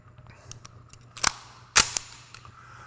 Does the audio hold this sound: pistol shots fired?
yes